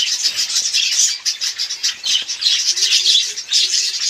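Pet budgerigars squawk and chirp continuously in a busy, close chorus, with soft rustles of wings as the birds fly around their cage.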